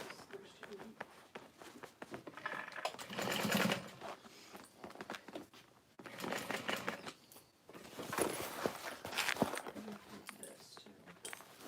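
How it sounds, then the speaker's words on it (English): A sewing machine stitches across regular duct tape in two bursts of rapid, even clatter, close and moderately loud, with brief pauses between runs and voices talking around it. "Sewing across the other side."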